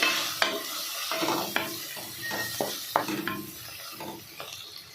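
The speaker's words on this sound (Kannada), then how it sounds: "ಪೆಪ್ಪರ್, ಸ್ವಲ್ಪ ಟರ್ಮರಿಕ್ ಹಾಕ್ಕೊಂಡು ಎಲ್ಲ ಚೆನ್ನಾಗಿ ಫ್ರೈ ಮಾಡ್ಕೋಬೇಕು" Black pepper, turmeric, cinnamon and cloves frying in a pan for mutton curry, with a steady soft sizzle broken by repeated scraping and clinking of a spoon stirring against the pan, close and moderately quiet, no voices.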